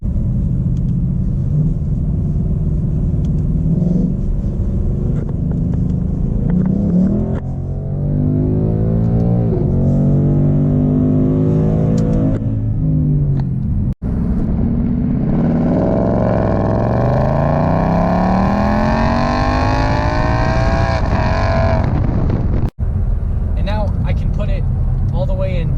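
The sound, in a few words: 2018 Ford Mustang accelerating through 10-speed automatic gears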